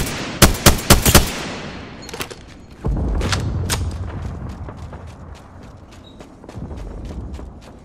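Gunfire in the video game Apex Legends: a quick volley of loud, sharp shots opens, followed by scattered single cracks and a long rumbling burst, then a steady patter of lighter rapid shots trailing off.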